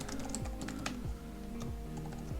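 Rapid typing of code on a computer keyboard, a quick irregular run of close, crisp key clicks with no voices.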